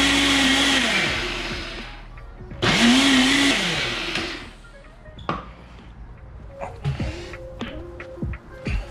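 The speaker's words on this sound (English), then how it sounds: "Use a bigger blender," A vacuum-sealed Ninja blender blending fire-roasted salsa roars in two loud bursts, its motor pitch sagging under load, followed by quieter clicks and knocking sounds.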